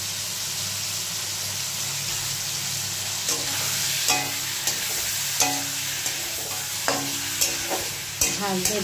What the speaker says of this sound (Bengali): ভালো করে একটু ভাজা ভাজা করবো